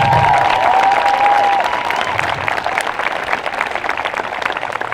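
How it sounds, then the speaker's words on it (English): Audience applause for the class of 2020 at a school speech event, a loud continuous burst of many hands clapping with some cheering and a whistle, gradually thinning. "everyone please give that class a round of applause"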